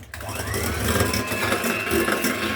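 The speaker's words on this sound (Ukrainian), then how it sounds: "Ще раз перебиваємо" An electric mixer beats a cake batter of sugar and vanilla sugar, whirring steadily and close after a brief start, with a loud, continuous motor drone.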